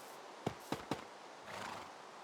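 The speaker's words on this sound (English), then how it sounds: "Horse, you need to go away." A horse in a video game gives three quick, clipped whinnying calls in a row, followed by a softer rustling and hoof-like shuffle, close and fairly quiet with no talking.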